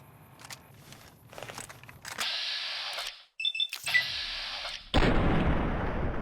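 A .357 revolver fires in the video game Fallout: New Vegas, with a few sharp, loud reports spaced through the clip, separated by short silences and softer clicks.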